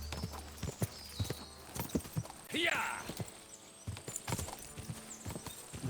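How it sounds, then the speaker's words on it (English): Horse hooves clip-clop steadily on a forest trail in the medieval game Kingdom Come: Deliverance II, a rhythmic trot of close, distinct hoofbeats with a brief whinny and a short spoken word over it. "This horse definitely got better stamina than mine did."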